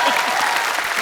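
A studio audience at The Kapil Sharma Show, a Hindi television comedy show, breaks into loud, dense applause that holds strong and even across the short burst.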